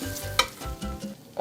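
A negi pork and daikon pancake sizzles while frying in a pan, a close, crackling hiss broken by several sharp clacks and scrapes.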